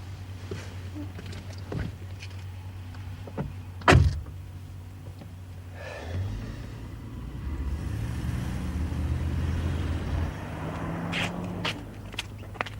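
Near a parked car, a window whirs and a door thuds, then the engine rumbles up and the car pulls away, its low drone swelling and then fading over several seconds.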